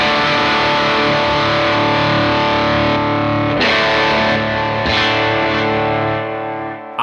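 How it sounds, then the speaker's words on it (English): Electric guitar played through a Line 6 Proxy and boosted by a DSP-heavy Heir Apparent drive pedal, giving a loud, saturated, sustained chordal tone with rich harmonics and a few fresh strums over ringing notes, heard alone. "I could then use the Heir Apparent, which is a pretty DSP heavy drive in and of itself. I could use that to boost it."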